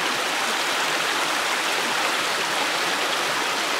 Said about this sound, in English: A nice little waterfall on this side.